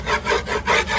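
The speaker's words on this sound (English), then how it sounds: "Now I have to score it. I'm low-key just gonna use a screwdriver." A screwdriver scores a board in rhythmic scraping strokes, about three rough rasping passes in one second, close and fairly loud.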